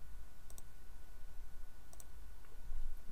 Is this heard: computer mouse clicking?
yes